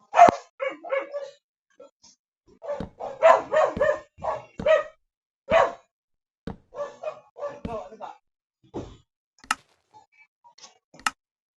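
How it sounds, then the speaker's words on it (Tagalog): A dog barks repeatedly in short bursts, close by and fairly loud, with sharp clicks and yips between the barks. "Ang ingay talaga ng aso"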